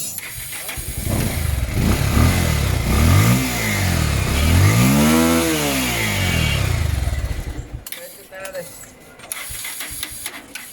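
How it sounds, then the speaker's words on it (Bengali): A Bajaj Discover motorcycle with a weak battery is started with the clutch held, and its engine revs up and down in several swelling bursts for about eight seconds, loud and close, then drops to a quieter idle with some mechanical clatter. "তো আমরা ক্লাচ ধরে স্টার্ট দিই।"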